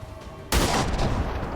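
A single loud hand cannon shot cracks out in the tactical game XCOM, followed by a short ringing, rumbling tail.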